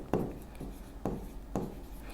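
Chalk or marker strokes on a classroom board as a maths formula is written, four short scratchy bursts spaced about half a second apart, close and fairly quiet, with no talk over them.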